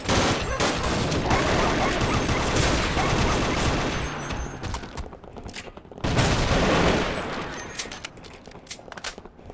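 A dynamite blast goes off in the Sven Co-op game, followed by a rolling roar of explosions and rapid gunfire-like bursts. It is loud and dense, with a short lull and then a second loud surge.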